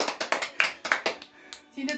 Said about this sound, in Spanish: ¡Aplausos! ¡Bravo!